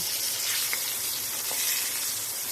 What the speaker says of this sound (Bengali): দেখেন আজকে কত বড় বড় মাছের কারি ভাজি করতেছি।